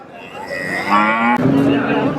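A cow at the Seenapuram cattle market gives a loud, drawn-out moo close by, its tone dropping lower partway through, with faint market noise behind it.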